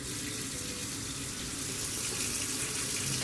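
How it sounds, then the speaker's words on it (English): Tap water runs steadily into a sink, a continuous broadband rush with no pauses, close and fairly loud throughout. "Turn the water on."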